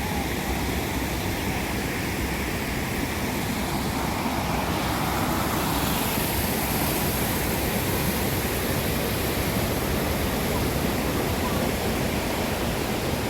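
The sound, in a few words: rushing water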